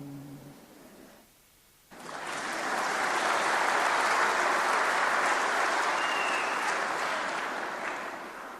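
Church congregation applauding after a sung song, a loud, dense wash of clapping that starts abruptly after a brief quiet gap, holds steady for several seconds and then tapers slightly.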